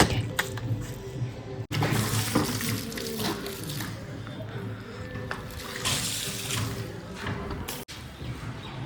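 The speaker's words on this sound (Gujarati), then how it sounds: "ટાંકાનું પાણી કાઢીને છાંટી દેવાનું છે આપણા ઘરની આંગણે" Tank water splashes from a bucket onto a home courtyard floor, a busy continuous spattering wash with sharp breaks between throws, heard close with faint voices underneath.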